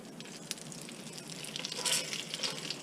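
Dry-aged steak, 25 days aged and cooked toward well done, frying in a pan with a steady close sizzle and crackle that swells louder near the end; no talking.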